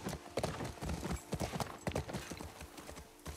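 Horse hooves clip-clopping in a rhythmic, steady series of close, distinct thuds as a horse walks in the video game The Last of Us, with no talk over them.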